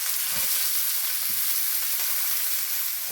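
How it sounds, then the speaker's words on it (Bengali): Chopped onion and garlic frying in oil, a dense steady sizzle with a few soft stirring scrapes underneath. "তো এইভাবে নেড়ে চেড়ে তেলের সঙ্গে পেঁয়াজ রসুনটা একটু নরম করে নেবে"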